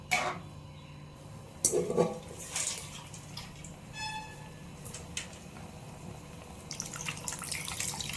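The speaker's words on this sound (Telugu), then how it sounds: "తగినంత పులుసు పోసుకుంటాను" Tamarind broth poured into an egg curry in a home kitchen: a steady wet pour with a few louder splashy bursts, close and moderately quiet, with no talking.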